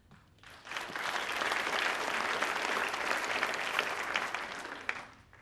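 An audience at a State of the City 2016 address applauds for the young men being honored, a sustained, fairly distant wash of clapping that swells and then fades.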